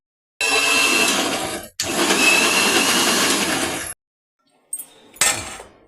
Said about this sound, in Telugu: ఇది మిక్సీ పట్టేసుకుంటాను.